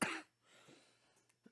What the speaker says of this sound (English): just coughing a little bit